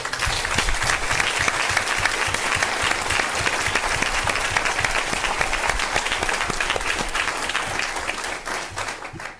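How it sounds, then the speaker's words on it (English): A school board public session audience gives a sustained round of applause, dense and steady clapping from many hands filling the room before tapering at the end. "Let's give them another round of applause."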